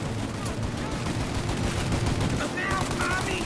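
Dense gunfire from a Mafia game shootout, with rapid overlapping shots forming a continuous loud barrage that runs without a break across the whole moment.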